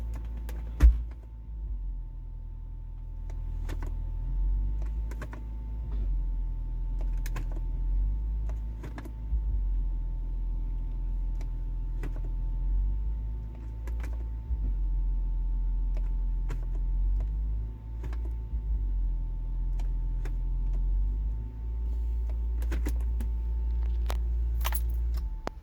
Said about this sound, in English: So now we've started the car up and cycled it through its gears and everything.